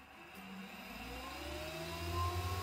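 A portable jade carving bench motor runs at low speed on an Amazon VFD, giving a steady whir with rising tonal hums that slowly grows louder, with no voices.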